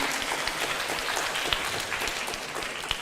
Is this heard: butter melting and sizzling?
no